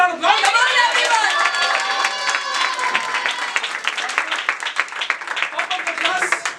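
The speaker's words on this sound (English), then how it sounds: "Round of applause. Come on, everyone." A class at an English-learning café celebration claps for a student, with some voices mixed into the applause; strong clapping at first that thins into scattered, uneven claps toward the end.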